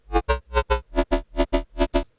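A Serum synth bass patch through an MG low 24 filter whose cutoff is swept by an LFO pulses in a steady run of short, heavy, wah-like hits with deep low end, loud and alone.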